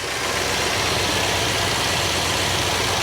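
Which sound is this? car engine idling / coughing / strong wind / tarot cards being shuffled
car engine idling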